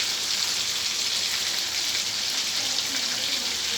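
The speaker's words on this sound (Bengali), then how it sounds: "লাল লাল করে মাছগুলোকে ভেজে নেবো আমি, বেশি ভাজবো না মাছগুলোকে" Giant freshwater prawns fry in hot oil in a steady, dense sizzle that holds at an even level throughout, close and loud with no pauses or voices.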